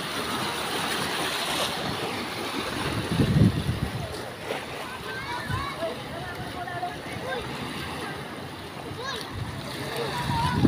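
Sea water splashing at a beach resort in Ternate, Cavite, with sloshing and churning water close by and a heavier splash midway, under excited voices talking throughout.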